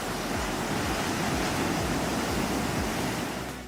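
Waves break on a bioluminescent sea at night, a dense, steady roar of surf with no voices, easing slightly at the very end.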